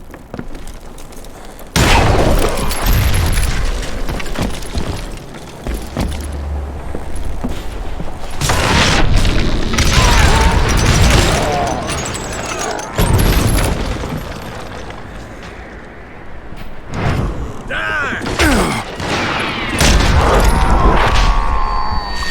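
Dynamite blasts in the Western shooter Call of Juarez Gunslinger: repeated loud booming explosions with rumbling debris and crackling over about twenty seconds, separated by brief quieter gaps.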